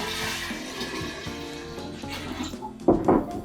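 Coconut water pours into a jar for a hibiscus lime party punch, a soft liquid gurgle under light kitchen noise that swells into a louder splashing stream near the end.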